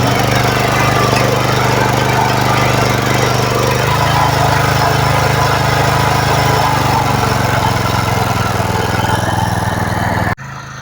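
A motorised tiller with a wide rotary cutter churns soil while preparing a garden plot, a loud steady droning engine with rattling, gritty clatter that runs continuously, then cuts off abruptly at the end.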